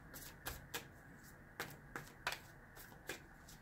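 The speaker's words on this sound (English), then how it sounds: "I know I shuffle a little bit differently" Tarot cards shuffled by hand, giving a series of soft, crisp riffling bursts at irregular intervals, quiet and close, with no talking.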